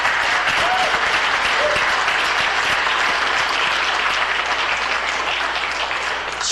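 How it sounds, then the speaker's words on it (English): A council chamber audience breaks into dense, sustained applause for youth water conservation poster contest winners, steady and loud throughout with a few faint voices mixed in. "Give them a big round of applause."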